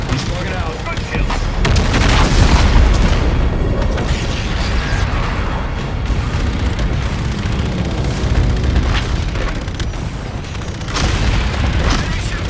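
Enemy ship destroyed in Call of Duty: Infinite Warfare, heavy booming explosions and rumbling blasts layered with mechanical whirs and rapid fire, loud and sustained throughout, with intermittent game dialogue.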